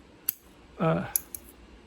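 Pruning shears snipping a branch on a cork bark oak bonsai: a few sharp, faint metallic clicks, close and isolated, with a short voiced sound between them.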